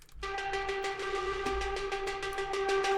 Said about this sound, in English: I took that hang drum sound, and I just, as it says here, I just trashed it completely